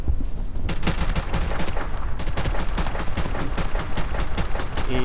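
AK rifle gunfire in a video game, loud rapid automatic bursts firing continuously, dense and close with no talking.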